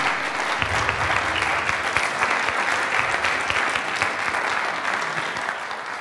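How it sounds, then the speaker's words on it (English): An audience in a coffee shop gives a steady round of applause, dense clapping throughout that fades slightly at the close. "So big round of applause."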